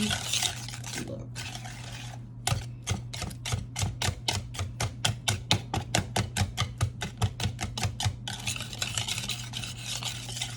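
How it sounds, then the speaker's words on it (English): Pecan pie filling with sugar being beaten hard in a bowl, a fast regular run of sharp utensil strokes clacking against the bowl, close and distinct, with softer stirring before and after. "I'm beating a little harder because I want to get the sugar"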